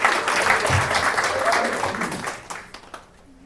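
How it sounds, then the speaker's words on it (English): An audience at a live event bursts into warm applause as a woman is called to the stage, a full, close burst of clapping that holds strong, then thins and fades out over the last second. "Give her a warm round of applause."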